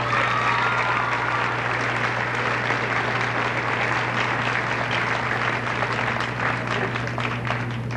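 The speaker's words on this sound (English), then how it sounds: "I think Joan deserves a big round of applause." A junior high graduation audience gives school nurse Joan Pacini a sustained round of applause, a dense, even wash of many hands clapping for eight seconds over a low room hum.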